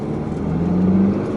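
A BMW X4 xDrive20d with a 2-litre turbo diesel accelerates at full load, heard from inside the cabin as a muffled, steady engine drone with a tone that climbs gradually. There is no talking.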